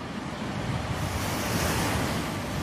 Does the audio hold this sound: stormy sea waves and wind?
yes